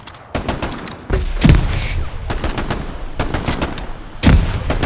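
Rifle and machine-gun fire in the World War II shooter Hell Let Loose, loud bursts of shots cracking in several clusters with short gaps, close and dominant, with no talk.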